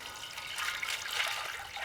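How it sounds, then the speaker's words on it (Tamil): Water pours from a vessel into a cooking pot set over a wood fire for egg biryani, a soft, continuous splashing stream close by and fairly quiet, with no talking over it. "உடனே நாம தண்ணி ஊத்திக்கலாம்."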